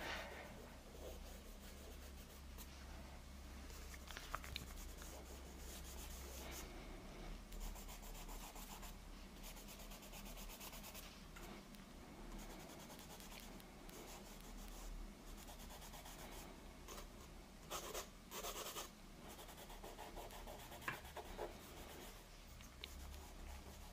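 Charcoal being smudged and blended across paper for a quick caricature portrait, a soft continuous rubbing and brushing that goes on steadily and quietly with small scratchy bursts.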